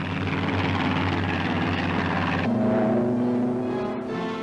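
Several P-47 Thunderbolt fighter planes taking off from a runway, a loud, steady propeller engine drone with a low throbbing hum that shifts in pitch partway through as the aircraft climb away.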